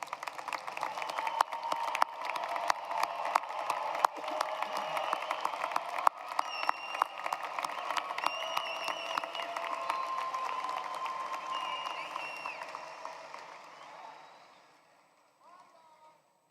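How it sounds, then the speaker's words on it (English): Audience applause at a graduation ceremony, honoring graduates' loved ones: sustained, dense clapping filling the hall for about twelve seconds, with some voices mixed in, before fading out. "Please join me in giving them a round of applause for their support."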